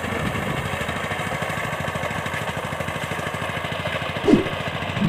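A four-wheel reaper binder cutting a wheat crop, its engine running with a steady, rapid mid-pitched chugging drone close by, one brief louder knock near the end, no voices.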